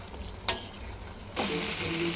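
Salted prawns sizzle in oil in a wok while being stirred. A sharp scrape of the spoon against the pan cuts in early, and then the frying hiss swells louder and stays steady to the end.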